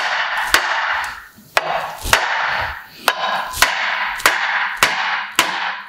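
Hammer blows punching old bolts out of the front axle of a Ferguson FE35 vintage tractor, about ten sharp metallic strikes at a steady, slightly uneven rhythm, close and loud over a constant background hiss.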